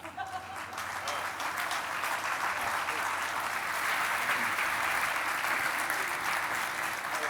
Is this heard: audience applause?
yes